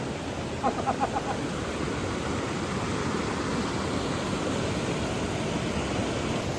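Floodwater after monsoon rain in a Konkan village rushes through a pipe under a bridge, making a close, unbroken broadband roar. A few short chirp-like tones sound briefly near the start.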